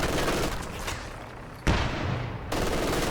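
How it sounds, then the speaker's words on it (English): A machine gun fires at riflemen in a WWII real-time strategy game, heard as dense, steady automatic fire that drops off briefly and then starts again, loud and close, with no talking. "We do see the MG engaging the riflemen here."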